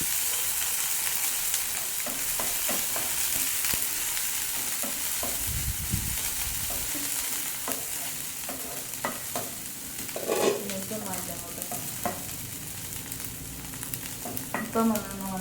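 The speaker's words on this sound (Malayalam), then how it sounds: "ചെമ്മീൻ ഇട്ട് കൊടുക്കുന്നുണ്ട് കേട്ടോ. ഉണക്കിയ ചെമ്മീനുണ്ട്. അപ്പോൾ നന്നായിട്ടൊന്ന് വറുത്തെടുക്കുക." Dried shrimp roasting in a pan, with a steady hiss and crackle broken by repeated spatula scrapes and taps, close and moderately loud, with no voice over it.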